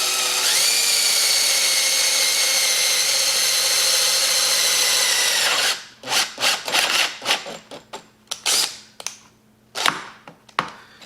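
Power drill boring into a Dana 300 transfer case, a loud sustained whining grind for several seconds, then stops into a series of irregular short bursts and rattles as the bit starts and stops.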